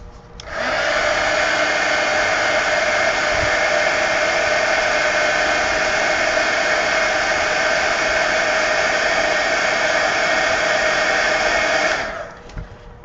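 A hair dryer runs steadily and close for about eleven seconds, a loud, even whoosh with a slight whine, used to dry a mixed media collage art card, then switches off.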